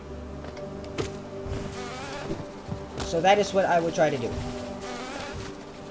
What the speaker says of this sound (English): the bees are flying everywhere